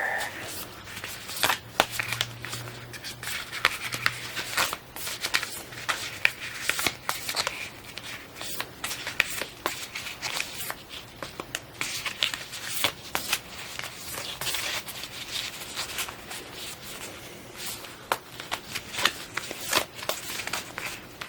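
Tarot cards from the Archetypes deck by Kim Krans are shuffled with soft, continuous riffling and crackling at close range, quiet and steady with no talking.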